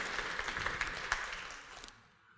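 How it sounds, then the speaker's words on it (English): Audience applause for a Java EE conference speaker fills the room as steady clapping, moderately loud, fading out toward the end. "please give him a round of applause"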